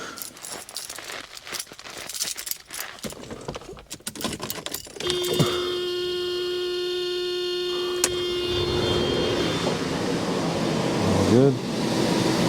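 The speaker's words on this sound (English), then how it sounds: "Let's go ahead and test the blower motor." Clicks and rattles give way to the steady whirring hum of a Mercedes W124 climate control blower motor running, a tonal drone that holds, then swells slightly near the end.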